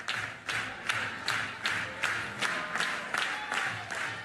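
A softball crowd in Norman, at a game between the Oklahoma Sooners and the Abilene Christian Wildcats, reacts to a home run with rhythmic, evenly spaced clapping, about nine beats, amid general crowd noise heard from a distance.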